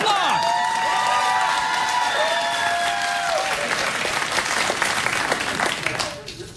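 A late-night talk show studio audience bursts into loud applause mixed with cheers, whoops and laughter, over the host's voice, swelling and then fading quickly at the end.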